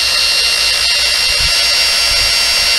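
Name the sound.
power buffer spinning to clean compound from sponge pad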